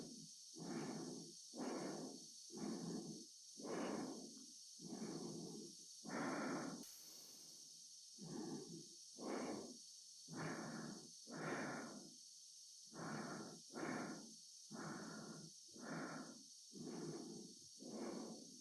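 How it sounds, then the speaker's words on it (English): Slow, heavy astronaut breathing repeats in a steady rhythm of about a dozen inhales and exhales, set against a constant faint spacecraft engine hum; no speech. "the breathing noises mixed with the engine noise right there"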